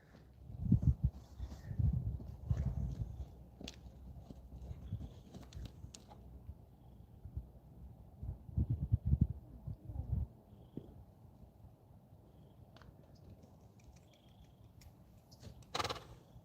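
A horse snorts and whinnies nearby, with soft hoof thuds and shuffling in a quiet outdoor setting, a few bursts separated by calmer stretches.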